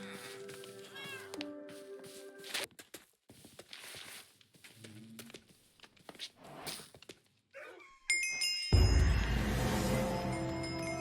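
Cats meowing inside a Minecraft world, with several separate high, wavering meows spread across the stretch, then a louder burst of mixed game noise near the end.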